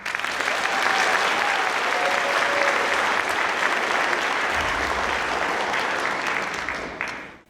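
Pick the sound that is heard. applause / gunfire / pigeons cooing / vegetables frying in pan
applause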